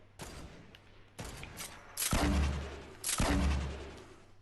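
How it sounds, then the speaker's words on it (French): Gunfire in an online trio battle-royale video game comes in a few bursts, with two louder, heavier blasts that ring on and decay. A faint hum runs underneath. "Putain, je me fais canarder."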